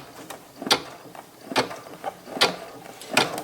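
An embroidery machine running a placement stitch on a patch makes sharp mechanical clicks and clunks, four of them spaced at a steady, slow rhythm, close and fairly quiet, with no talking.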